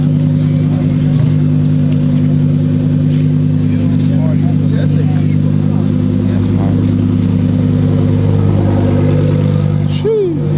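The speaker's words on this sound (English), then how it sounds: "We got a Huracan pulling in." A Lamborghini Huracán rolls into a downtown car meet, its engine a steady low rumble running under nearby chatter and crowd noise.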